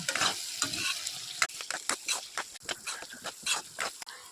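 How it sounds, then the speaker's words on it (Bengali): Potatoes frying with spices (coriander, turmeric, chilli powder, green chilli) in a wok for a cabbage fry, giving a close, steady sizzle broken by repeated scraping strokes of a stirring spatula, with no talking. "মশলা ভাজা হয়ে গেছে, আলু ভেজে নেব।"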